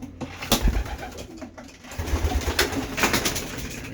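Old racing pigeons cooing up close, soft throaty coos repeating over a steady murmur of more birds, with a few wing flutters.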